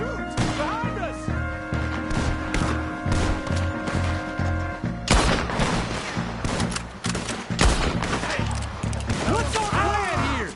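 Rapid gunfire in Red Dead Redemption 2 during a shootout, repeated sharp shots and bursts cracking over tense music and background voices, growing denser in the second half with people talking throughout.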